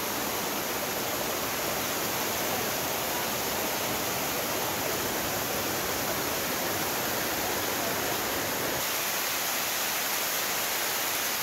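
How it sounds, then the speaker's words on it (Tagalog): Balete Falls, a waterfall in San Jose del Monte, Bulacan, gives a constant loud, broadband rushing roar of falling water that stays steady and unbroken throughout. "ito yung sinasabi nilang Balete Falls mga kabayan"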